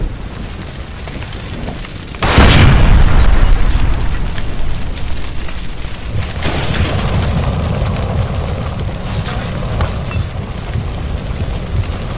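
A gas line explodes in the video game L.A. Noire, a loud sudden boom followed by a long crackling, rushing roar of fire and debris that stays loud as it fades.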